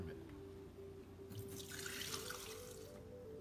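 Leftover water pours out of a filter housing from an iSpring RCC7AK six-stage reverse osmosis system, a steady splashing flow into a sink lasting a few seconds over a constant low hum, with no talk.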